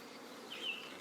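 Honey bees hum and buzz around a hive box as new queens are introduced, a faint, steady outdoor drone with a slightly louder insect pass near the middle and no voices.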